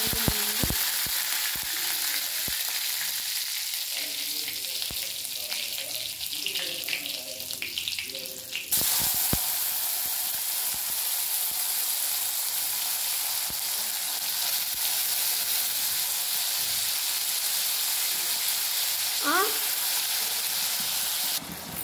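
Tomatoes hit hot oil for a curry, setting off a steady hiss that jumps louder partway through and keeps a bright sizzle under occasional clatter.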